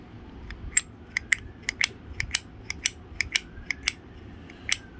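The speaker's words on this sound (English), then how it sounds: "with just light force, that thing snaps right back into place" Plastic or metal go-kart brake pad and backing plate clicking into place, a rapid series of light, sharp mechanical clicks and snaps spread over several seconds, close and fairly quiet, with no talking.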